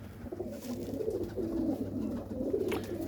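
Soft, low cooing of a pigeon kept by a pigeon fancier, a steady murmur of repeated throaty coos heard close by with no talk.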